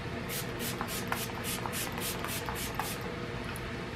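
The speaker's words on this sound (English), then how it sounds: "I go in once with my Fix Plus and give myself a spray" A mini MAC Fix+ coconut setting spray misted onto a face in a quick series of about a dozen short, soft hissing puffs at close range.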